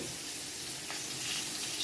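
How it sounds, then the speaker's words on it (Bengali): Potatoes frying in oil in a pan for fish curry, a steady soft sizzle with an even hiss throughout and no speech. "এখন আমি আলুগুলোকেও একটু লাল লাল করে ভেজে নেব।"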